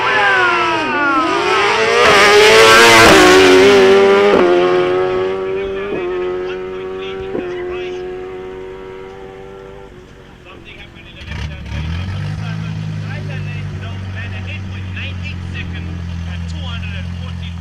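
BMW drag race cars launch and scream down the strip at a South African drag racing nationals event, engines climbing through rapid gear changes, loud then fading into the distance before a nearby rumbling idle returns.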